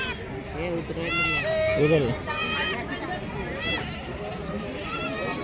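Goats bleat in a few wavering cries amid loud crowd noise and people talking nearby at the busy outdoor weekly goat market in Belhe, Maharashtra.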